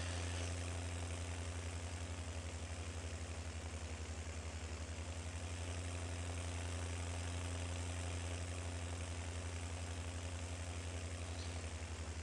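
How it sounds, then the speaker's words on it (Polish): Steady, loud tractor engines idling and droning in the farming video game Farming Simulator 19, a constant low mechanical hum with no break and no talk. "Pędzą dwa traktory,"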